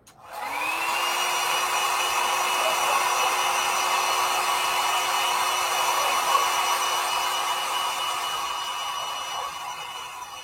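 Hair dryer blowing on wet paint, starting abruptly and then running as a steady, loud whining hum with a constant high tone, continuous and close without speech.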